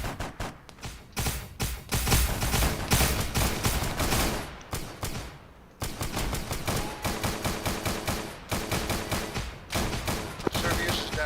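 Sustained bursts of rapid automatic rifle fire in a military simulation shooter, loud and close, with a brief pause midway before the rattling volleys resume.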